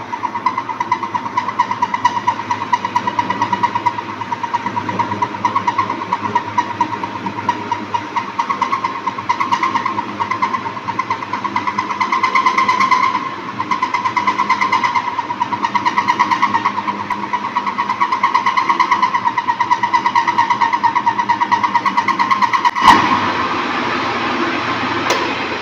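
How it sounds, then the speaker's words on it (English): A metal lathe turns slowly through a grooving cut, giving a steady, continuous machine hum with a constant mechanical drone throughout and a brief clunk near the end, with no talking. "So in this operation you can see that the speed of the lathe is kept as slow as compared to your turning and facing operation."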